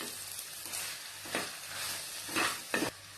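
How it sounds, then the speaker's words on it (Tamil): Sliced snake gourd sizzles softly in a pan and is stirred with a spoon, giving several scraping sweeps over the steady frying hiss. "எல்லாத்தையும் நல்லா ஒரு மிக்ஸ் பண்ணி விட்டுக்கோங்க. கொஞ்ச நேரம் அப்படியே இது நல்லா வதங்கட்டும்."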